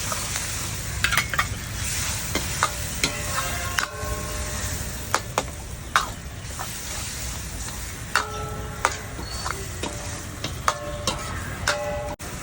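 Chicken pieces stirred and sautéed in a pan give a steady sizzle, with repeated sharp clicks and scrapes of a spatula against the pan throughout, close and fairly loud.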